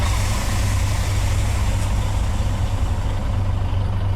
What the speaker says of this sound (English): How beautiful engine start is this?